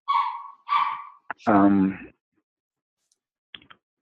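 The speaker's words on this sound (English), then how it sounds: "We got a dog agreeing yes" A dog gives two quick, close barks, followed by a short burst of a voice and then near silence with a few faint clicks.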